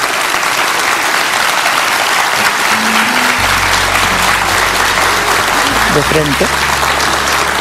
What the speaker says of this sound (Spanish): Un aplauso para todos mis investigadores que intervinieron.